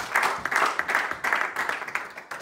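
A church congregation claps and acclaims the Lord, a dense wash of applause and voices pulsing steadily throughout, fairly loud and close.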